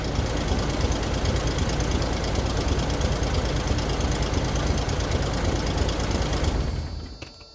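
An old Toyota pickup's engine runs at a steady idle with a rough, knocking rumble and a possible exhaust leak, loud and constant before it is shut off and dies away at the end.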